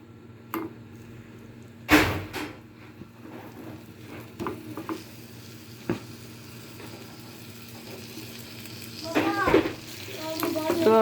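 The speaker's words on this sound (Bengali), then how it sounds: "এই যে মাছগুলি এখন ভাজা হয়ে যাবে" Tengra fish frying in oil in a frying pan, a steady soft sizzle broken by sharp spattering pops and clatters, with a voice talking quietly near the end.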